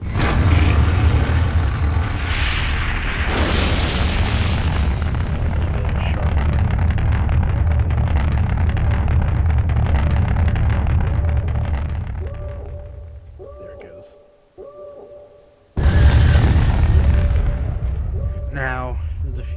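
A missile launch and explosion in the Garry's Mod game with the GBombs addon: a loud, sustained roaring rumble that fades away, then a sharp blast bursts in after a short near-silence.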